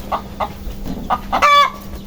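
Chickens and chicks on a Filipino farm raising hybrid and Black Australorp breeds: several short close clucks in a quick series, ending in a louder drawn-out squawk.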